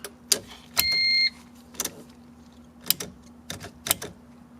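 Turn-signal flasher on a Honda CRX with a B16 engine, a bulb out, clicking fast: sharp dry ticks spaced about half a second to a second apart over a low steady idle hum, close and moderately quiet.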